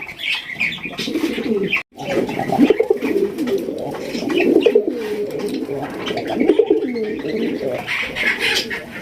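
Rajgolla pigeons coo in a repeated, throaty rhythm, close and fairly loud, with several birds overlapping over a faint background of chirps.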